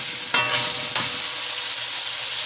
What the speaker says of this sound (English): you just let it fry up a little bit